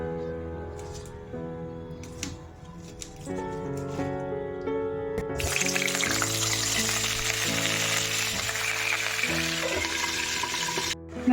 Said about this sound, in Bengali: আমি ফুলকপিগুলো ভেজে নেব আগে